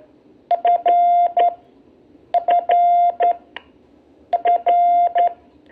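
Three short bursts of electronic Morse code beeps in quick dit-dit-dah patterns, repeated at even intervals, clear and close with a faint background hiss.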